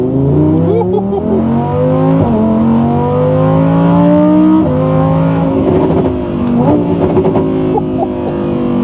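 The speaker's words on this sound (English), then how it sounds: "with the natural aspirated V10 in the back" The naturally aspirated V10 mounted behind the seats of a 2023 Audi R8 GT revs and climbs through rising, shifting pitches, loud and close, with a voice talking over the engine.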